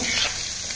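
Hot oil sizzling in a wok, a steady bright hiss with faint crackle, close and fairly loud throughout the short moment.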